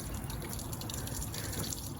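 Water running from a hose at a campsite service point, a steady soft hiss and splash with faint dripping, quiet and continuous throughout.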